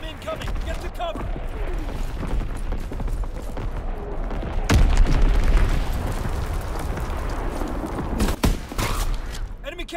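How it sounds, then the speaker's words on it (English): Incoming bomb strikes in a Call of Duty free-for-all match, a dense rumbling barrage of booms and blasts with scattered gunfire, loud and continuous, with a sharp burst near the end. "Enemy bomb incoming. Get to cover."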